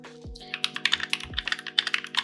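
A modded mechanical keyboard with lubed switches and clipped stabilizers is typed on steadily, a rapid run of crisp, muted clacks up close over a low electrical hum.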